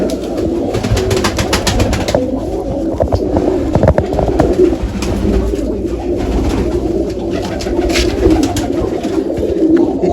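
Pigeons coo steadily and close by in a loft, their soft rolling calls layered over one another for the whole stretch with faint background noise.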